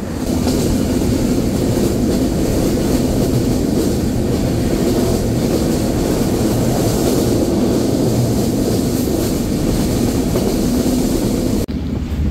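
Madhumati Express passenger train running at over 80 km/h toward Mirpur, a loud continuous rumble of wheels and carriage noise heard from onboard, unbroken throughout.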